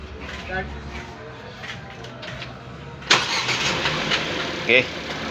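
A Ford Fiesta's engine cranks and catches partway through, then runs at a rough idle with a few revs, close by, while people talk over it.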